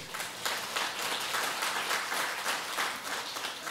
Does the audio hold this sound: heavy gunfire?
no